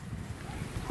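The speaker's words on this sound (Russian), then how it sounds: "Еще и ветер поднялся." Gusty wind by a river rumbles and buffets against the microphone in a low, continuous roar.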